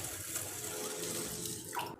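Water poured over soaked lentils being washed for adai dosa, a steady running, splashing flow like a tap into a bowl, close and continuous for about two seconds before stopping abruptly, with no talking.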